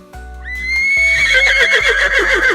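A horse gives one long, loud neigh that rises and then trembles, set over a repeating low musical beat, with faint hoof clip-clops underneath.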